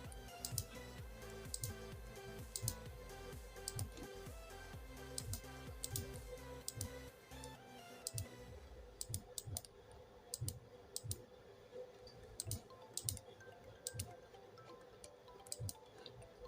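Keys clicking on a computer keyboard while text is typed into a logo design app, a steady run of quick soft taps with brief pauses, close and alone with no voices.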